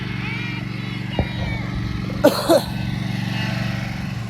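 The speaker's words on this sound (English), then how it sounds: "Nice that first mower he gets to mow on is, a professional zero-turn" A professional zero-turn riding lawn mower drones steadily close by, its engine hum continuous throughout, with a couple of brief knocks and a short voice-like sound over it.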